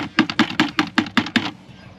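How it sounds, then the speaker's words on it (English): Worms being chopped for carp fishing bait, cut into biggish chunks: eight evenly spaced, close, sharp knife chops in a steady rhythm, then quiet. "I'm not chopping this too coarsely, so there's again lots of biggish chunks there"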